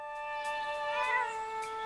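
A cartoonish cat in the video game The Legend of Zelda: Echoes of Wisdom gives a single clear, tonal meow, drawn out and slightly rising, heard alone without talk.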